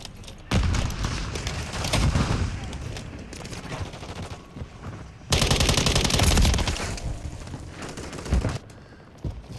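Rapid automatic gunfire in the multiplayer shooter Modern Warfare III, loud close bursts of sharp shots separated by quieter gaps, with a long heavy volley in the middle and game noise between.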